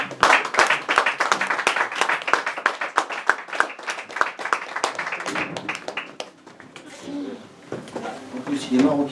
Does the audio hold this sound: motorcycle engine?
no